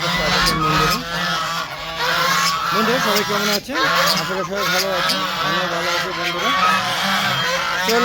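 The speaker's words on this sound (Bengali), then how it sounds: "হাঁস মুরগিগুলো অবস্থা দেখতে আসলাম দেখেন আমাকে পেয়ে ওরা চিল্লা চিল্লি খাবার খাবে এরকম শুরু হয়েছে" Ducks and chickens on a rooftop clamor for food, loud, continuous honking quacks and squawks from a close flock, overlapping almost without pause.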